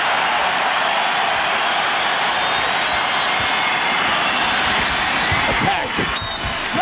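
A basketball arena crowd in Cleveland rising and roaring during a tight NBA game, a loud sustained wash of cheering with a bouncing ball and a commentator talking over it.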